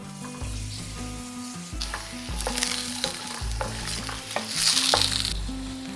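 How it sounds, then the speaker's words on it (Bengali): Potatoes fry in oil in a pan, with a continuous sizzle and rhythmic scraping stirs of a utensil against the metal, close and steady with no speech. "একটু ঢাকা দিয়ে এটাকে ভেজে নেব যাতে ভাজার সাথে সাথে সিদ্ধটাও হয়ে যায়"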